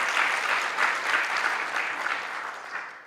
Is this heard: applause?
yes